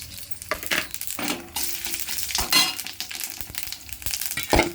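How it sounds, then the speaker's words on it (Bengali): Cumin seeds and bay leaves dropped into hot oil crackle and spit in a busy, close sizzle with sharp popping bursts and stirring clinks throughout, no voices. "এবার জিরে তেজপাতা দিয়ে দিলাম, জিরে সাদা জিরে সম্বার"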